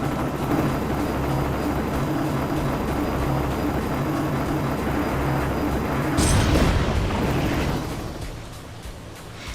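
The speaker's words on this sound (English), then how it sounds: "it sounds like a helicopter is coming this way" Helicopter approaching in a Marvel video game, a loud rhythmic rotor chop over rumbling, with a burst midway before the noise fades somewhat.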